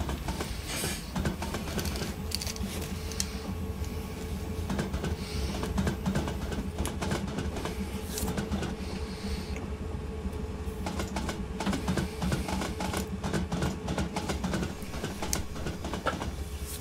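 Train running in the Train Simulator 2018 game, a steady loud rumble of wheels and engine with rail clicks throughout, continuous and close.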